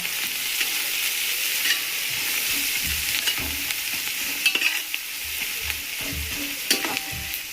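Chopped onion frying with half a spoon of salt for chicken pulav, a continuous close sizzle broken by scraping stirs and light spoon clinks against the pan, no voices.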